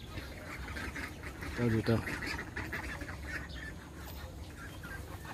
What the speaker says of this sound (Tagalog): Ito maliliit na itik.